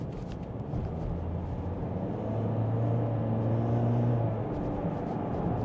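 A Toyota Corolla Flame X-Pack with a 1.6 engine pulling uphill, heard from inside the cabin as a steady low engine drone and road rumble that rises slightly in tone, with no talking.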